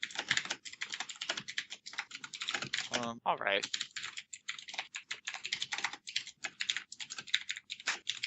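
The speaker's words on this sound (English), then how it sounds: "I want to hear what typing results in." Rapid typing on a computer keyboard fills the whole stretch, dense irregular clicks close to the mic, with a brief spoken phrase cutting in near the middle.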